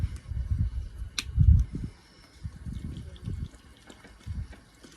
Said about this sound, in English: And then we're going to add 1 cup water